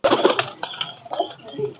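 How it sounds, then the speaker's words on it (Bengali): Golden pigeons of a Kuwaiti quality breed coo in a loft. Soft, throaty coos come close and fairly loud in uneven bursts across the short stretch, and faint voices murmur beneath them. "এই কবুতরগুলো আমাদের এই পর্বে দেখাবেন চলুন দর্শক আগে কবুতরগুলো আপনাদের একটু দেখাই"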